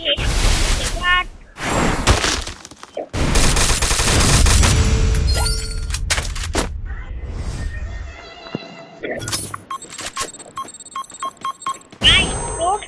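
Bursts of gunfire from a shooting video game come in loud clusters of rapid shots and crashes separated by short pauses, with a voice speaking over the action.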